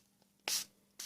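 A homemade intense color spray mists out in two short, close bursts, each a sharp hiss, with a quiet pause between them.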